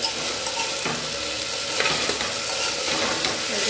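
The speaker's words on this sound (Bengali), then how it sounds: "এবারে একটুখানি নাড়াচাড়া করে নেব।" Potato curry spices fry in a pan while being stirred, a steady close sizzle broken by a few soft scraping strokes of the spoon, with no talking.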